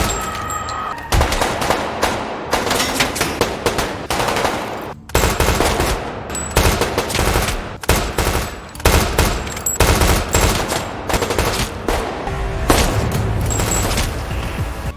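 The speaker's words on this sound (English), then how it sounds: "The moment the two sides met, a fierce gun battle immediately erupted." A fierce gun battle between a gang of former special forces soldiers and a rival gang: loud, rapid machine-gun bursts and scattered shots fire almost without pause, with a few short gaps, over a dense, busy backdrop.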